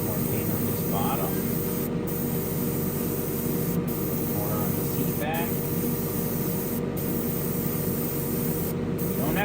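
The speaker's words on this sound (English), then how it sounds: "And then spray a little more paint on this bottom." Steady broadband airbrush hiss as paint is sprayed onto the underside of an AMT 1967 Impala street machine model car, continuous and close with a constant compressor-like hum beneath.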